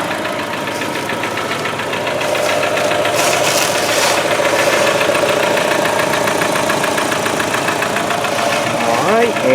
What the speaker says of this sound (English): it's definitely a 4-cylinder motor